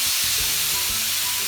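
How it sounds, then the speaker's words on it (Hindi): Chicken grill-frying in a preheated pan gives off a loud, dense, steady sizzle, close up and uninterrupted, with no talking. "हाँ ग्रिल फ्राई करेंगे चिकन को।"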